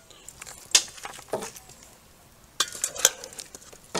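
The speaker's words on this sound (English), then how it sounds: "We're gonna put a whole bunch of chipotle barbecue sauce. Not a whole bunch, some. And I'm gonna try and stir this up." Chipotle barbecue sauce stirred in a small bowl outdoors for steak kabobs, giving a few scattered scraping and clinking strokes with quiet pauses between them, fairly close and soft.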